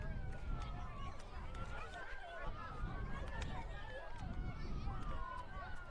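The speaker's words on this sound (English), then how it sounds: "Sirens going in the background." Wailing sirens rise and fall in the distance beneath a busy crowd murmur and nearby voices at a women's football match at Hay Park, Bunbury, continuous throughout.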